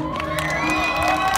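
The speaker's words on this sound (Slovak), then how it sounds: "Myslím si, že si zaslúžia vás aplaus." Audience at a shopping-centre opening in Lučenec cheers loudly for children performers on an ice stage, a dense, sustained crowd roar with shouts and whoops throughout, close and full.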